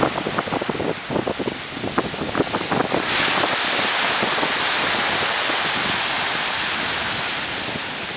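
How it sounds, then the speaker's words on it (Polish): Small, gentle ocean waves lap at Monte Gordo beach in Portugal, a steady soft surf wash under gusting wind on the microphone, with some choppy crackling at the start. "Dzisiaj wieje od lądu, dlatego woda jest gładka jak stół prawie. Malutkie fale."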